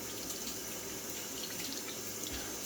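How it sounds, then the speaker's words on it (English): Tap water runs steadily into a kitchen sink while raw pork is rinsed under it, a continuous close hiss of splashing water with no voices. "So give it a quick rinse to rid it of those things."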